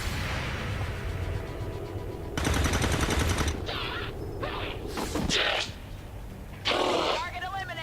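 Soldiers fire weapons in the turn-based strategy game XCOM 2, with bursts of rapid gunfire and a few single cracks over a continuous game backdrop, fairly loud, several volleys a second or so apart.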